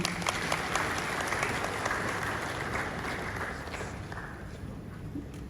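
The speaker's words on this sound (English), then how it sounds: "Another round of applause" A conference audience at an African Union anti-corruption event applauds, a broad wash of clapping that fills the room evenly and gradually thins and softens toward the end.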